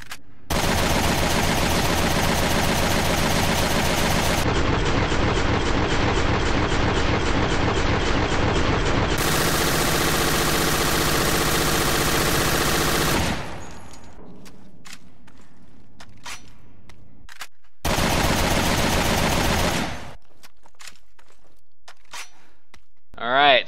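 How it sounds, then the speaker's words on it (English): Sustained bursts of AK-7 rifle fire in Resident Evil: Revelations 2, loud and dense, running for several seconds, then a pause, a few scattered clicks and a second long burst. "let's test the AK-7 out"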